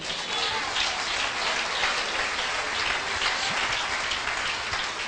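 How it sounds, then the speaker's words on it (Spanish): Congregation applauding at a Christian preaching conference, a dense, steady wash of clapping that holds evenly for about five seconds like rainfall, with no voices over it. "Hermano, por favor, denle un aplauso al Señor."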